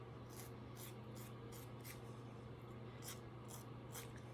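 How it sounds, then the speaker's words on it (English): Faint, rhythmic rasping as a nail file works along the edge of a press-on nail strip, about a dozen short quick strokes over a low background hum. "now we're going to file this guy down and trim the edge on that one."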